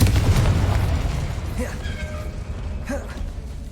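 A Confringo explosion spell goes off in the video game Hogwarts Legacy, a loud low boom at the start that rumbles and fades over a few seconds, followed by faint magical whooshes.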